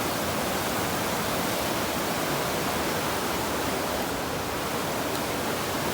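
A powerful river rushes loudly nearby on a long-distance hike toward the Vermont state line, a dense, unbroken roar of churning water with no other sounds.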